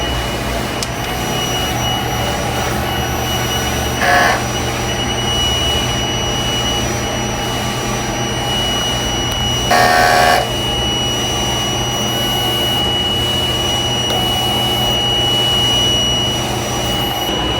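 A large format sublimation printer runs a head clean cycle, a steady loud mechanical whir with a constant hum, broken by two short brighter whining bursts from the pump or carriage; no one speaks.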